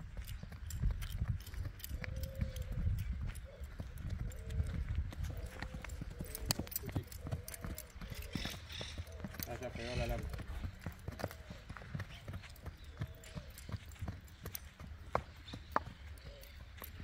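A bay horse being led across a ranch toward a paddock, its hooves clip-clopping in a quiet, uneven walking rhythm on the ground, with faint voices in the background.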